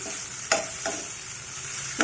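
Steady sizzling hiss of ingredients for an Indian gooseberry and ginger chutney frying in a pan, with a few sharp stirring scrapes breaking through.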